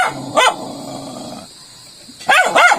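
A dog near a hole in the ground in Lasam, Cagayan, gives a sharp bark, growls low for a second, then lets out two more loud, close barks.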